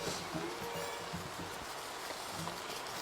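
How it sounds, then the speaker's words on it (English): Rain falls outdoors at an open-air barbecue cook, a faint, steady patter and hiss of drops landing on surfaces, with no one talking. "Even though it's raining"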